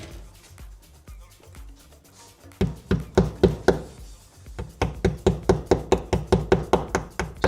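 Repeated hammer taps drive a part into a Kromlech Battle Rig miniature model, starting as soft scattered knocks and building into a loud, steady run of sharp, evenly spaced blows close by, with no talking.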